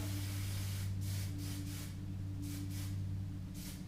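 Several short hissing bursts of hairspray from an aerosol can onto curled hair, irregularly spaced, close by over a low steady hum.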